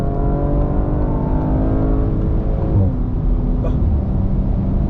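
A 2021 Audi RS4 accelerating hard from inside the cabin, a loud continuous engine roar with harmonics sweeping upward, then a brief dip like a gear change before the pull resumes.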